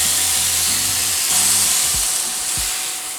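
Ground taco meat hits an oiled pan and sets off a steady, loud sizzle and hiss, with a few dull knocks as it is broken up, and no one talking.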